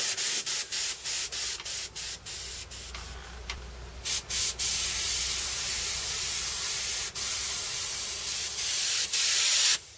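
An airbrush sprays paint onto a t-shirt in close, loud bursts of airy hiss, broken into short rhythmic pulses at first and then a longer steady spray, with no voices over it.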